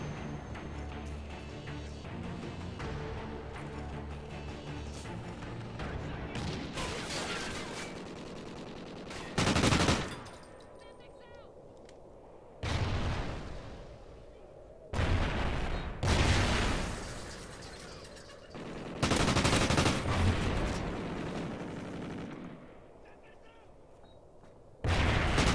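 Video game gunfire comes in several loud sharp bursts spaced a few seconds apart, with quieter stretches of game sound and background noise between them.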